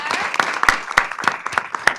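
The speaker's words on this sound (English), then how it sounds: "Another round of applause." A summit audience claps in a thin, scattered round of applause, with a few distinct hand claps standing out rhythmically over a sparse background.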